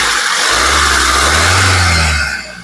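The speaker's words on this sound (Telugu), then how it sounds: "ఇంజన్ యొక్క నాయిస్ చాలా సైలెంట్ గా అయితే ఉందండి" A 2014 Mahindra XUV 500 W8 engine runs steadily and quietly, a smooth low hum with a faint rise in pitch partway through, heard alone without speech before it tapers off at the end.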